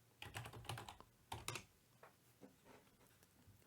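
Quick bursts of keystrokes on a computer keyboard, clustered in short rhythmic runs with pauses between, close and fairly quiet, with no talking.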